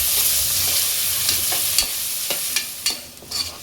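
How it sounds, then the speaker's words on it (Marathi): Chopped onion sautéing in hot oil with curry leaves and green chili, a steady close sizzle broken by several sharp scraping clicks of a spoon stirring against the pan. "आता कांदा लालसर होईपर्यंत परतवत राहायचा आहे."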